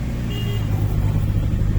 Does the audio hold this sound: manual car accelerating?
yes